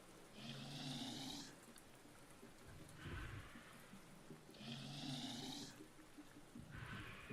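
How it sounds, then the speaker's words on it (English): Slow, steady snoring in a cartoon-style scene, with long rasping inhales and softer exhales repeating in a regular cycle about every two seconds, fairly quiet and heard alone. "I hear snoring."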